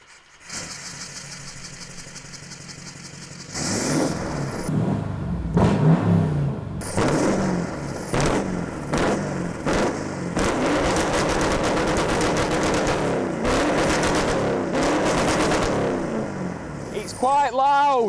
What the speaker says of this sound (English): let's start her up and give her a rev.